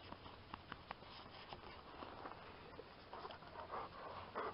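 A dog pants rapidly and sniffs close to the microphone throughout, with small taps and rustles mixed in.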